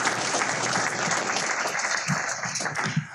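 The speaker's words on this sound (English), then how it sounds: "please join me in giving them a warm round of applause for joining us today" At a digital publisher panel hosted at Google during Pubtelligence 2017, an audience gives a warm round of applause, thick continuous clapping filling the room, with a few sharper claps standing out near the end.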